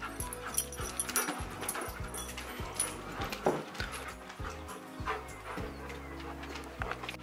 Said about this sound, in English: now that the dogs are let out, they're running around like crazy